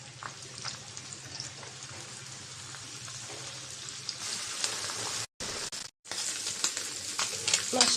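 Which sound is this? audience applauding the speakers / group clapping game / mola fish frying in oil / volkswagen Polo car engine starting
mola fish frying in oil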